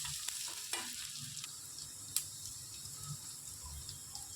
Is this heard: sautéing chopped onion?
yes